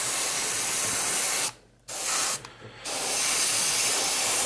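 Spray can of paint coating a miniature's mud base, a steady close hiss in two long bursts with brief pauses between them.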